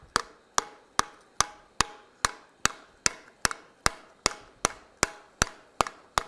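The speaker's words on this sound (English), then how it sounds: "ball peen hammer or a hammer that has a really nice curved surface to it" A ball peen hammer strikes hot metal during blacksmith forging, sixteen sharp, evenly spaced ringing blows close by with no talking.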